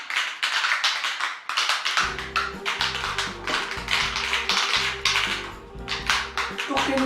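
Rapid rattling taps from shaking a gold Glow Revolution spray illuminator bottle, close and rhythmic, lasting several seconds after a soft start.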